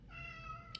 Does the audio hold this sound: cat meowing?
yes